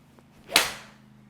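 One sharp crack of a Callaway Epic Forged 5-iron striking a golf ball in a covered hitting bay, a single close impact with a short decaying tail over a faint steady hum.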